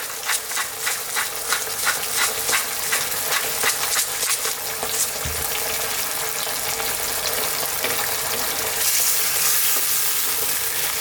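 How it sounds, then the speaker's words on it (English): Steady crackling sizzle of arrabbiata sauce in a pan as tomatoes are pressed and broken down with the back of a spoon, with faint stirring scrapes, close and continuous. "I'm just going to break these tomatoes down a little bit with the back of the spoon."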